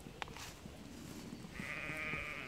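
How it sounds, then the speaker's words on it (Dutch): A sheep bleats once in a drawn-out, wavering call from a short distance away, over faint outdoor background noise. "Er zijn de schapen achter me."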